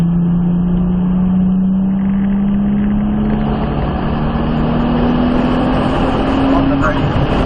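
A Nissan Skyline R34 GTR powers along a track, its engine note climbing steadily under acceleration, loud and continuous, with a voice speaking over the drone.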